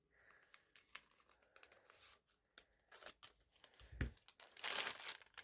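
Crinkly plastic packaging rustles and crackles close by, broken by a few sharp scissor snips. The sounds come in irregular bursts, with no talking.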